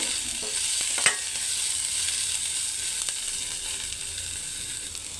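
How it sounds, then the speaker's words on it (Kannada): Onion, green chilli and curry leaves frying in oil for vegetable upma, giving a steady bright hiss of sizzling with a sharp spatula clink early on and a few faint stirs. "ಈರುಳ್ಳಿ ಹಾಗೆ ಮೆ ಹಸಿಮೆಣಸಿನ್ಕಾಯಿನೂ ಕೂಡ ಹಾಕಿ ಫ್ರೈ ಮಾಡ್ಕೊಳ್ತಿದ್ದೇನೆ"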